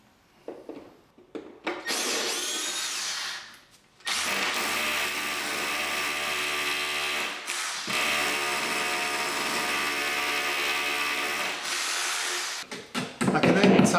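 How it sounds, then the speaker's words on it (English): An SDS drill with a 10mm bit bores into a plasterboard-covered wall, running loud and continuously in two long bursts with a brief pause between, whining and grinding close by. "I'm now drilling the wall using a SDS drill, using a 10mm diameter drill bit."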